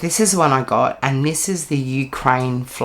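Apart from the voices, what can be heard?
None of the usual background noises is heard.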